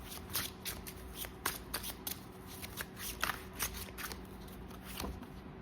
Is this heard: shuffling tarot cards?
yes